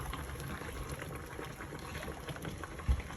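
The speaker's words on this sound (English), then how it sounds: "It's going to boil until it gets thicker, right?" Muscadine jam boiling in a pot makes a steady, dense bubbling simmer with continuous popping and no speech over it.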